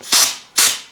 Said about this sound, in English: I'll just take some compressed air and we'll just shoot some of that in there